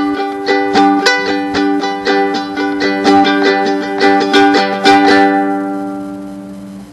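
A ukulele chord played repeatedly with a triple strum pattern (down, down, up), bright and close, in a steady galloping rhythm that rings out and decays at the end.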